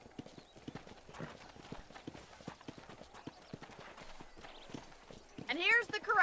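Horse hooves clip-clop steadily in the Western video game Red Dead Redemption at a ranch corral, a regular close rhythm of hoof strikes running throughout, with a horse whinnying near the end.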